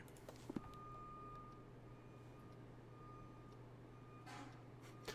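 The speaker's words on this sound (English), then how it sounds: "I hear a truck backing up all of a sudden." Outside, a truck backs up with a faint, distant series of regular reversing beeps over a low, constant background hum, with a couple of soft knocks nearby.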